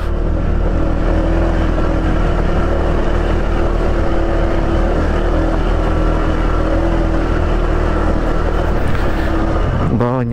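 A steady motorcycle engine drone runs throughout with constant rumbling noise from a rough, slippery, rain-wet road, close and loud, as the motorcycle travels along without pause.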